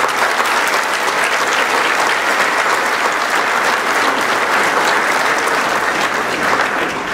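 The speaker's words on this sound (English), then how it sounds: "Please give them all a big round of applause." Sustained, dense applause from a large commencement audience cheering graduates at the College of Menominee Nation, steady and loud throughout with no break.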